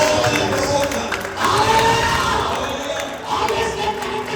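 Audience at an evangelistic meeting claps and cheers together, a dense, steady wash of many hands and voices filling the room, holding loud throughout with a brief swell midway.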